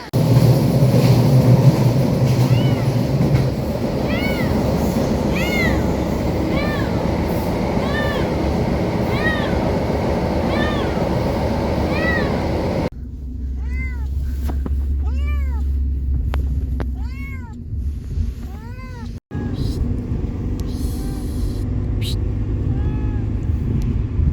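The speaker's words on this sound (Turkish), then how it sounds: "Kendisi kafesin kapağını kırmış şu miyavlamaya bakın." A frightened cat that has broken the lid of its carrier meows repeatedly, rising and falling cries in a steady series, close and loud over a rumbling vehicle-like background.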